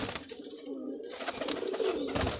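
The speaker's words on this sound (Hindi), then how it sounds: "और एक ये टैडी कबूतर बैठा हुआ है" Teddy pigeons cooing softly on a rooftop, a faint low murmur of calls against steady background hiss.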